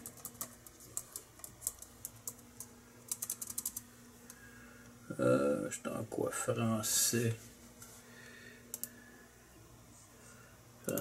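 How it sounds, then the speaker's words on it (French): Keys on a Toshiba Satellite C50 laptop keyboard with a Canadian French layout click in short, quick bursts, close but faint. A person speaks briefly in the middle. "On va tester notre clavier."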